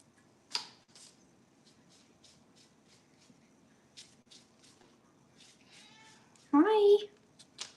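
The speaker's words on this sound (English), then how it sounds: "Here comes my cat." A pet cat gives a short, close meow near the end, after scattered light ticking and shuffling sounds in a quiet room.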